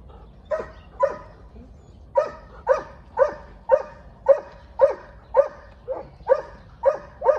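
Podenco hunting dogs bark in a steady series of sharp, evenly spaced barks, fairly close and moderately loud, with a brief pause early on before the rhythm resumes.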